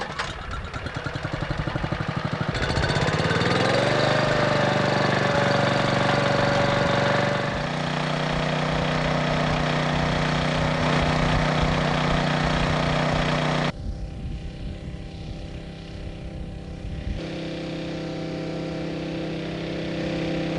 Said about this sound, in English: To assist in this task, a ground-based winch was used.